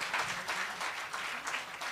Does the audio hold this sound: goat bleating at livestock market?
no